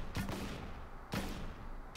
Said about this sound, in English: Aim the grenade launcher down and shoot the wall